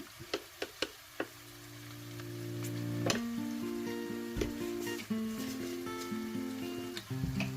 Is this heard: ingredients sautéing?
yes